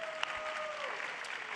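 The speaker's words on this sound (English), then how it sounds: "round of applause for the supports out there." Audience applause for the support players at the LCS Spring Split Finals esports event: steady crowd clapping held evenly through the moment, with a faint tonal hum running underneath.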